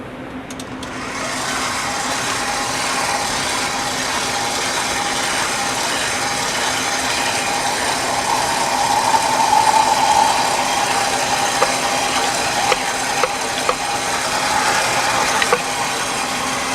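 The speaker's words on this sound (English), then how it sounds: "So we're just going to grind it up and then we're going to make a burger with it." A meat grinder runs steadily as plant-protein burger meat is fed through it, a continuous mechanical whirr with faint rattling and grinding texture, close and constant throughout, no talking.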